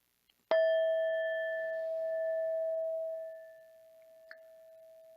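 At the opening of a Sunday church service, a bell is struck once, giving a clear, bright tone that rings on for several seconds and slowly decays in a quiet room.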